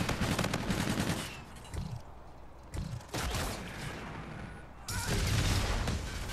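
Gunfire in the video game Call of Duty: Infinite Warfare, rapid automatic bursts in several loud clusters separated by short lulls with faint thuds, close and sharp.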